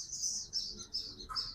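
A Sogon songbird, being teased, gives a run of high, thin chirps in quick succession, close by and fairly soft, with no talking.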